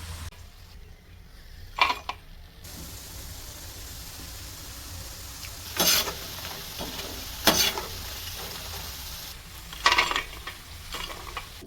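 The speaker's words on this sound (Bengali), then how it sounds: "নেড়ে চেড়ে লাল করে ভেজে নিয়েছি" Peanuts frying in hot oil with a soft continuous sizzle, broken by several sharp scraping stirs from a strainer spoon turning them, close by and with no talk.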